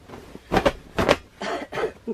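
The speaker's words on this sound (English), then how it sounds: "pardon me, this cough." A few close, rough coughs from bronchitis come in quick bursts, separated by short pauses and a breathy throat sound.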